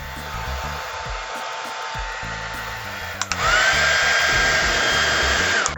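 A hair dryer, one with two power settings and a rounded air intake at the back, whirs steadily and is then switched to its second, higher setting, giving a louder, higher-pitched roar that holds to the end.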